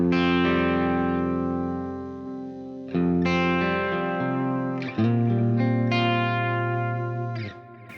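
Electric guitar through an Axe Fx Wreckers Trainwreck preset with delay, playing sustained chords and ringing notes in several phrases, each attack trailing off into echoing repeats.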